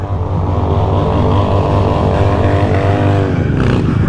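A small Honda Grom motorcycle revs loudly and steadily up close during a wheelie attempt, its buzzing engine holding high with a rising swell near the end.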